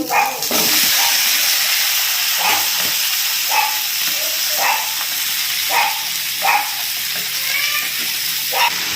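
Vegetables for a pumpkin curry hiss and sizzle steadily in a hot pan, with a series of brief scraping stirs breaking through the constant frying noise, close and fairly loud.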